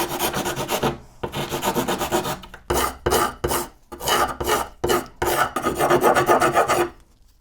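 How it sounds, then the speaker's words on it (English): A rasp files the top of a paracord stock whip handle with loud, close scraping strokes, long at first and then shorter in a broken rhythm, with no talking. "I'm going to do so with our rasp here."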